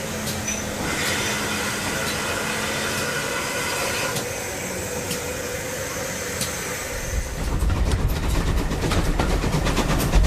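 South Devon Railway heritage train rolling toward Staverton Station: a steady low rumble and rolling hum that swells louder near the end, with faint clicks and squeals above, no voices.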